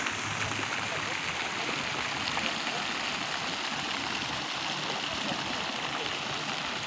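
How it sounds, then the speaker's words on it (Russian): A small fountain in Kharkov splashes steadily, giving a continuous hiss of falling water close by with no break. "Вот фонтан решили все-таки оставить. Он маленький."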